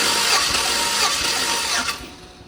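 A 2006 Chevrolet Silverado engine runs close up with a bright, busy mechanical rattle and ticking over a dull idle hum, holding steady for about two seconds and then easing off slightly.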